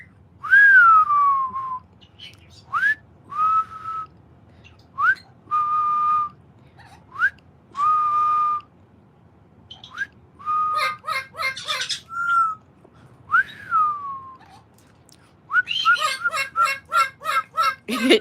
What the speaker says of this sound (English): Can you whistle instead of screaming?